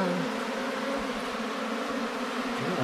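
Honey bees swarm and fly close by, making a dense, continuous buzzing drone that stays even throughout with no voices.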